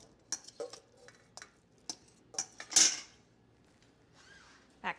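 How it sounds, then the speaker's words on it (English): Pork tenderloin goes back into a pan in a home kitchen, with scattered utensil taps, clinks and one loud scraping clatter, sparse and close with quiet gaps between. "Now we're going to put it back in the pan."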